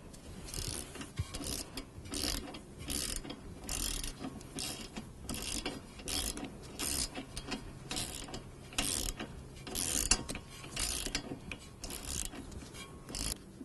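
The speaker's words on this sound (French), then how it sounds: "Nous allons resserrer le boulon de 13 à l'aide du petit cliquet" A small ratchet tightens a 13 mm bolt during a front brake disc and pad job on a Smart Fortwo: steady, rapid clicking in repeated bursts, close and fairly faint, with no voices.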